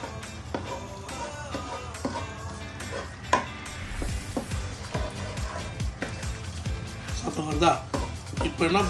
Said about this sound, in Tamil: சீரகம் பொரிய ஆரம்பிக்கும்.